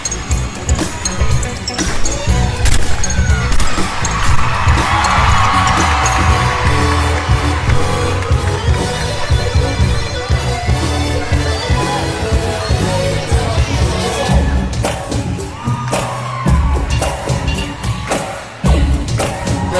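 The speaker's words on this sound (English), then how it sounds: "crowd goes wild for that opening double layout" A large arena crowd roars and cheers loudly and continuously through a gymnastics floor routine set to pop songs, with scattered thuds and claps in the dense din.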